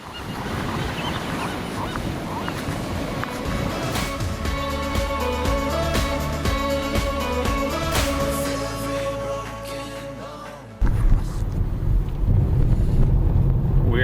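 Strong wind buffets the microphone on a Pacific Ocean beach, with a steady rush of surf underneath and a passage of sustained tonal, horn-like sounds through the middle.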